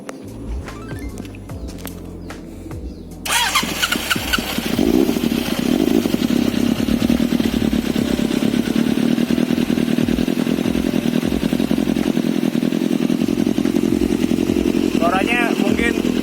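A 1986 Suzuki GSX-R 750 motorcycle engine and exhaust idle loudly and close after a clattering start, holding a dense, steady burbling roar, with a person speaking over it.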